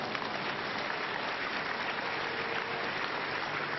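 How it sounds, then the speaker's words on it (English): Congregation clapping during a Sunday church service, a steady, dense wash of hands held evenly throughout at moderate level with no break. "Now, why clapping at this time?"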